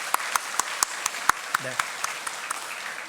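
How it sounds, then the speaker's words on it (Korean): A church congregation at a Korean Sunday worship service claps to welcome new members. Sparse, fairly steady hand claps sound in a room, with a brief spoken word partway through. "우리가 박수로 환영하도록 하겠습니다"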